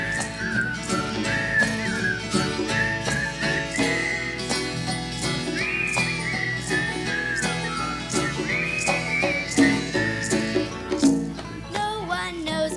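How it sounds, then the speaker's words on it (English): Melodic whistling weaves over a busy musical backing, with tinkling percussion and a steady beat throughout. "I can whistle and Let's whistle one,"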